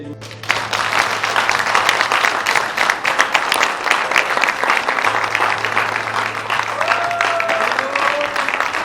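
A large audience applauds at a film premiere in Yaoundé, steady dense clapping filling the room for the whole stretch, loud and sustained with a low hum underneath and a few faint voices mixed in.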